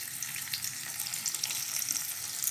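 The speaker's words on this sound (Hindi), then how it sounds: "तीन को मैं भी फ्राई कर रहा हूँ थोड़े से लाल मिर्च पाउडर और ऑयल में" Eggs frying in hot oil with a little red chili powder give off a steady, dense sizzle that stays close and even throughout, with no voices.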